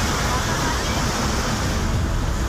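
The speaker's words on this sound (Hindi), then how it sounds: "गंगा की लहरें तांडव मचाती हुई बह रही हैं।" The swollen Ganga river in flood at Rishikesh roars as a dense, continuous rush of turbulent water, loud and unbroken throughout.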